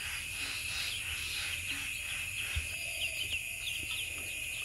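A batch of about fifty young chicks kept for rearing chirps continuously in high, thin peeps. A steady background hum runs under them, with a few soft knocks.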